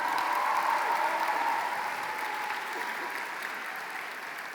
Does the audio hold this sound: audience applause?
yes